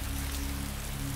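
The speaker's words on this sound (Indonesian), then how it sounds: "Ya, kondisi memang gerimis, tapi gerimisnya dikit ya." Light drizzle of rain outside a mall in Glodok: a brief, steady, soft patter and hiss of drops over a low, constant hum, with no voices.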